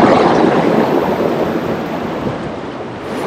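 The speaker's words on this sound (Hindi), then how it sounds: "यूं करके छपक छपक पानी भर रहा है बेटा" Loud, rushing river water splashes continuously close by, a dense churning wash of waves with some wind buffeting the microphone.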